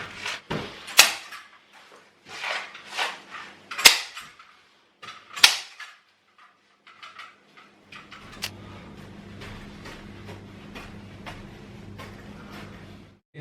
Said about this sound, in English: I'm just going to use a staple gun to secure it.